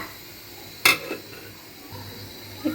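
A metal lid set down on a cooking pot of fluffy pulao, one sharp clatter with a short ringing tail, followed by quieter low kitchen noise and a small knock near the end.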